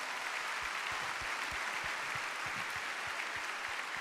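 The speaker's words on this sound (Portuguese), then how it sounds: "Acho que as mulheres podem aplaudir agora também" A church congregation applauds steadily, many hands clapping in a dense, even wash that holds at a constant level throughout.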